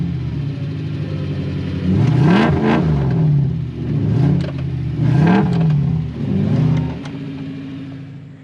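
A 1UZ-powered Toyota Surf/4Runner, stuck on a test drive, has its engine revved hard in repeated surges, the deep loud rumble climbing and falling over several seconds with no one speaking.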